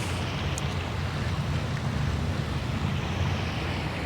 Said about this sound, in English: That's Cave Creek coming out of the cave.